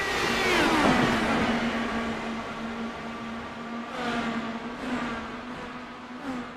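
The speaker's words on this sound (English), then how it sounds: "You can hear the noise of the engines still coming out through turn one." IndyCar engines in the iRacing simulation at Pocono, a loud steady high-pitched drone with rising and falling pitch sweeps as cars pass through a turn, several engines overlapping and no talk.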